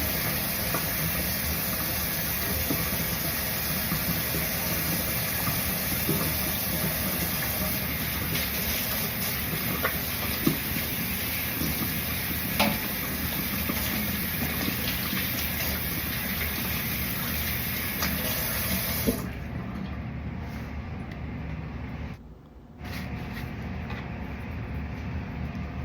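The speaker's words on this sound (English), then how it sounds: "now I'm just washing my hands normally" Tap water runs steadily over hands being washed with liquid soap in a lab setting, a continuous close gushing hiss that cuts off near the end, with no talk.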